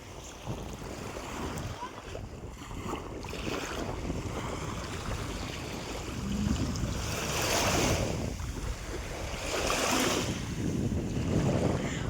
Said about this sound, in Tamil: அலை சத்தம் மட்டும்தான் கேட்குது